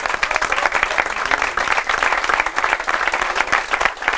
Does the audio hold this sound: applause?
yes